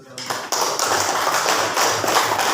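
Students in a classroom clap together, a dense patter of applause beginning abruptly and continuing steadily at close range.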